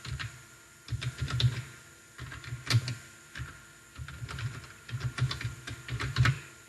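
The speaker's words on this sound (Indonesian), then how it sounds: "Nah, kita ketik mapel yang kita ajarkan saja," Typing on a computer keyboard in bursts of rapid, close key clicks, with short pauses between runs and a constant faint background hum, no voices.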